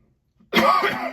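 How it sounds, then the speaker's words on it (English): After a moment of silence, a single harsh cough bursts out close and loud, trailing off into a rough exhale. "Very sorry for that coughing."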